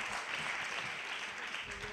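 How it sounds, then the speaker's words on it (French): Applause from an audience at a live French science event, a steady, fairly faint wash of many hands clapping with no talk over it. "des petits applaudissements"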